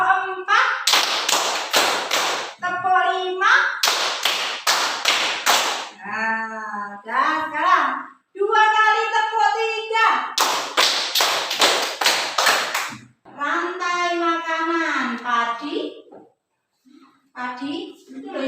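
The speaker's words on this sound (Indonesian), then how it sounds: "Ada tepuk 1, 2, 3, 4, 5. Dicontohkan guru dulu ya." A fifth-grade class performs a counted clapping pattern in groups, led by a teacher. Bursts of sharp, rapid claps alternate with the teacher's voice speaking between the rounds.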